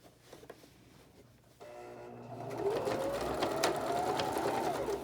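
Sewing machine stitching a cardigan, starting quietly, then whirring steadily and speeding into a louder continuous hum with a rising motor whine, close up, with no talking.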